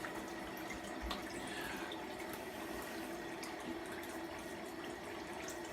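Faucet water runs steadily into a barber shop sink during a rinse, a constant close hiss and splash with faint scattered drips and no talking.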